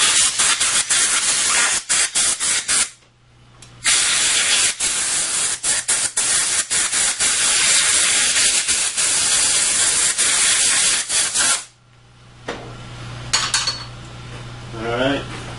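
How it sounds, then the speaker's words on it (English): Compressed air blasts grit out of a machine in long, loud hissing bursts, broken by brief pauses, with a faint rattle of parts between blasts. "we're going to blow some air in there now"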